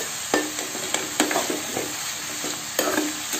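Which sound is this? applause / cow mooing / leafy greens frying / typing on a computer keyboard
leafy greens frying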